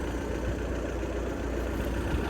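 A Kubota L36 tractor fitted with a 70 hp combine harvester engine, running steadily nearby with a constant deep rumble and no voices.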